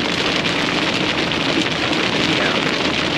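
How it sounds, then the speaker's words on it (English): Heavy rain pours steadily, a dense, loud hiss of raindrops striking surfaces with some wind buffeting the microphone, continuous and unbroken, with no one speaking. "it's raining real hard, and you can hear the raindrops."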